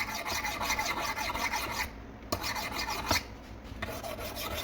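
Steady abrasive rasping of a knife blade drawn over Spyderco Sharpmaker ceramic stones held perpendicular for a 20-degree-per-side edge, continuous close strokes with a couple of brief pauses and clicks.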